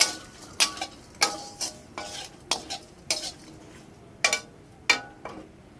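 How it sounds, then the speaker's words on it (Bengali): A spoon stirs fried spice mix in a pan: about ten sharp scraping clinks spaced through a faint background sizzle, close by, with no speech. "ভেজে রাখা যে মশলা দিয়েছিলাম, মশলাটা আমি দিয়ে দেব। ভালো করে নেড়ে নেব।"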